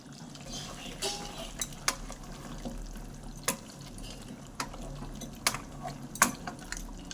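A spoon scrapes and knocks through chicken kosha in a pan, sharp metallic clicks landing irregularly every second or so over a soft, wet, low background, close and fairly quiet, with no talk.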